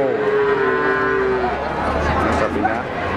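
A pregnant Peranakan Ongole (PO) cow moos once, long and loud at close range, over steady market background noise and faint chatter.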